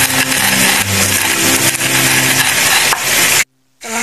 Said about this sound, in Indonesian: Sambil menunggu kentangnya matang, kita haluskan bumbunya dulu